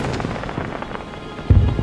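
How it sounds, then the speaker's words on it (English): Weasleys' Wildfire Whiz-Bang fireworks go off in a Harry Potter video game, a string of quick crackling pops over a busy background, ending in a heavier, louder burst near the close. "Looks like somebody bought out all of the Weasleys' wildfire whiz-bangs."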